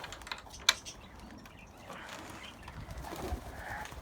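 Pet pigeons or doves coo softly inside a hut, with a sharp click early on and low rustling and shuffling around them.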